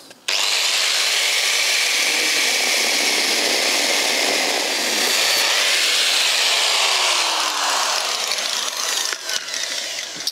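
A power tool cuts through the second rusted bumper mounting on a TVR 3000 M, a loud, steady, high whine running almost the whole time before stopping abruptly.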